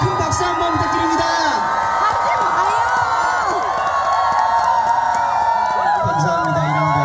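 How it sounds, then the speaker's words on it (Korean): Fans at an outdoor family concert in Ulsan cheer loudly, with whoops and high excited shouts rising over a busy crowd and light clapping mixed in, many voices overlapping close by. "여러분 이분께 큰 박수 한번 부탁드립니다."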